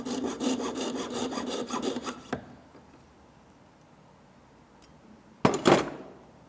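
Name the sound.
jeweler's saw with 4/0 blade sawing through a metal ring seam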